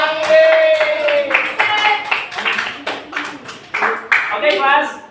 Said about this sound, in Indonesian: tepuk tangan untuk Ainur.